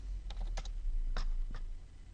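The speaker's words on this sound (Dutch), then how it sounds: "Ik kan hier voetbal typen." Fingers type on a computer keyboard, with a few sharp, clustered keystroke clicks close to the microphone in a quiet room.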